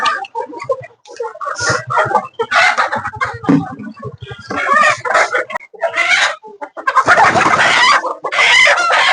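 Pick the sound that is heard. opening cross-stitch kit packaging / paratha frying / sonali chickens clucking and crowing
sonali chickens clucking and crowing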